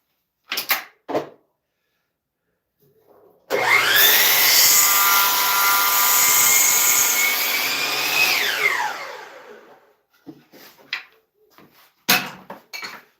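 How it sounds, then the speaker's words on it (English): A chop saw squares the bottom end of a cedar fence board: the motor spins up and cuts steadily for about five seconds, then winds down, with a few knocks of handling the board before and after. "Let me go get the bottom square on the chop saw."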